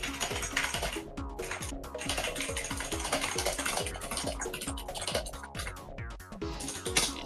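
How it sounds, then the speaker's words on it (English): Fast, dense typing on a computer keyboard, a continuous run of crisp key clicks with brief pauses, close and fairly loud with no voices. "He's typing up a storm right now."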